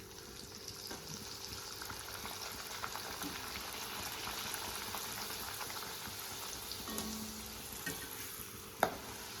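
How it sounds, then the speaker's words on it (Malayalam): Steady low bubbling and sizzling of mango pooris frying in hot sunflower oil, continuous and fairly quiet, with a faint clink near the end. "ചൂടായ ഓയിലിലേക്ക് ഇട്ട് കൊടുക്കാം."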